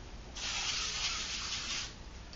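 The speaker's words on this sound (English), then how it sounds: "I'm going to use a little Pam on it" Pam cooking spray is sprayed onto a tart pan in one close, steady hiss lasting about a second and a half, with no talking.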